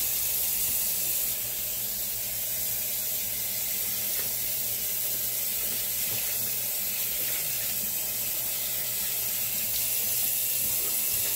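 Tap water runs steadily into a sink while a Kennedy safety razor is rinsed after a shaving pass, a continuous close hiss and splash with no talking.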